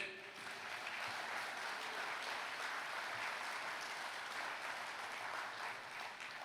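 An audience at a church talk gives sustained, moderately quiet clapping, a dense even patter of many hands that continues throughout with no clear break.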